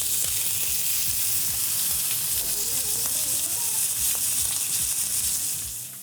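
Bacon and onions frying in a pan give a loud, steady sizzle with a dense crackling hiss that holds throughout, with faint stirring knocks underneath, tapering slightly at the very end.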